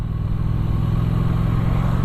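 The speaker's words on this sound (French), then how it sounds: "Le moteur est assez péchu quand même." A 2017 Triumph Street Twin 900 motorcycle engine while riding, a steady low rumble mixed with wind noise, constant and close throughout.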